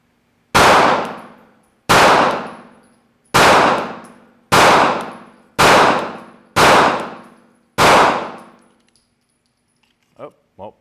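Seven loud, sharp gunshots from a Kimber R7 Mako microcompact 9mm pistol with an extended magazine ring out at a steady pace on a range, each ringing off briefly, followed by a couple of faint clicks.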